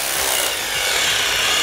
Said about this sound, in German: dann fange ich auch wieder unten an zu bohren